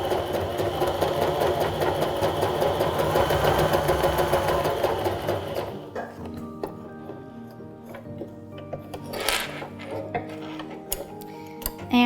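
A Baby Lock sewing machine fitted with a Teflon foot runs top stitching in a fast, steady mechanical whir that stops midway, leaving quieter clicks and handling noises.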